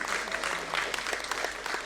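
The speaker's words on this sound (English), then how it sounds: "a thunderous applause is in the need of the hour" An audience claps continuously, a dense patter of many hands applauding at moderate volume without any voices standing out.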